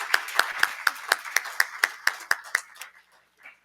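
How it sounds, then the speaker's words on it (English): Rhythmic clapping for panelists and experts at a panel session, about a dozen crisp, evenly spaced claps that fade out near the end, with a faint trailing clap. "please join me in giving a big round of applause for these fantastic panelists and"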